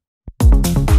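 Bass run through the Decapitator saturation plugin with Punish engaged and drive near 3, mix at half: a short gritty, distorted low burst of a few thick notes after a brief faint blip, loud and close.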